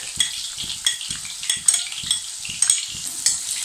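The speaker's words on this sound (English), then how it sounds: "Saute them thoroughly." Chopped ginger, garlic and green chilies sautéed in a pan for Indo-Chinese cauliflower Manchurian, with a steady soft sizzle and repeated scraping clinks of a spatula against the pan.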